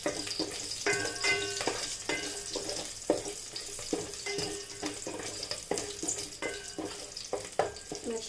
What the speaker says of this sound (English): Now add in the slit green chilies, saute them for about